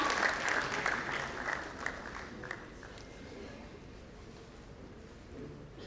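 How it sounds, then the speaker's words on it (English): Audience applause honoring Professor M.M. Sharma at an award ceremony during an inauguration event, a steady wash of clapping that starts fuller and gradually thins and softens. "Can we have a round of applause"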